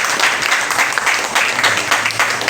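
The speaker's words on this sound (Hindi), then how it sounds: "मंच का तालियों का स्वागत कर दीजिए इन लोग का सभी को" A crowd at a poetry book launch ceremony gives loud, continuous applause, with many hands clapping in a thick, steady roar throughout.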